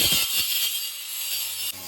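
An angle grinder cuts through a kitchen drain pipe under cabinets, giving a loud continuous high-pitched whine with some rougher grinding bursts at the start, running steadily close by with no talking.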